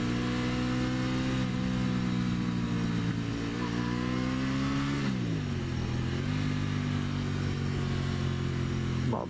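An Aprilia Tuono motorcycle engine revs hard and continuously on a mountain hairpin road, a loud, sustained roar that rises and dips in pitch as the throttle changes.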